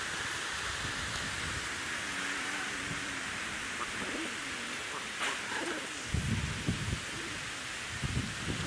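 A molting pigeon coos softly in low, throbbing pulses against a quiet hum, faint and close, with no talking.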